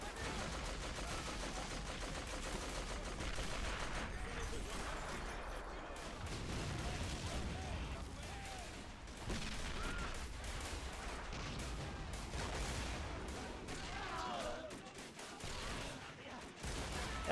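Dense, continuous gunfire and machine-gun bursts from a First World War battle game set at Fort de Vaux during a French charge, loud and layered with distant explosions throughout.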